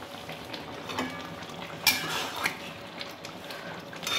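Giant river prawn curry bubbling in a pan, a soft continuous sizzle and simmer with faint crackles and a couple of brief utensil clicks, close and fairly quiet with no talk.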